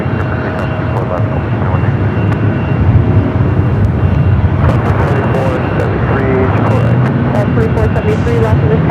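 A jet airliner taking off from runway 24 left at Los Angeles LAX, its engine roar loud and steady throughout, with faint radio voices underneath.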